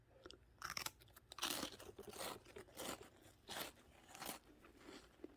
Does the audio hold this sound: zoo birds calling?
no